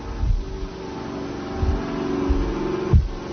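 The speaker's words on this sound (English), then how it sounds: "Motor still running." An electric motor on a table runs with a steady low hum and faint whine, broken by a few brief thumps and knocks, alone without talk.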